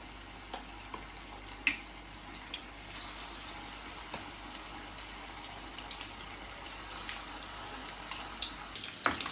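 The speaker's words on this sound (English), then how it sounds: "Now drop one by one into the oil. The oil is medium hot." Chicken 65 pieces dropped one by one into medium hot oil, frying with a steady crackling sizzle and scattered pops and spits throughout, fairly close and unaccompanied by voices.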